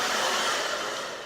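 A blow dryer styles a hair system with a steady, close, loud broadband rush of air that fades slightly toward the end, alone without talk.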